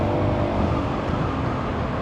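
Road traffic rumbles steadily throughout, a dense, loud wash of passing cars and engine noise with no breaks and no talking.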